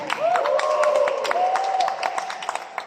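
Church congregation at an El Shaddai worship service clapping and calling out, a dense continuous wash of applause with voices rising over it, while a preacher's sustained voice carries on top throughout.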